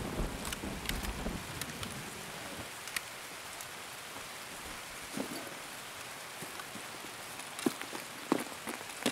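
Soft steady rain in a video game patters with scattered louder drips and clicks, fairly quiet and continuous, no talking.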